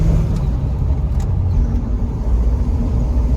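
A 1966 Chevrolet Corvette with a cowl induction hood drives up a road, its engine a steady low rumble heard close and continuous throughout, with no talking.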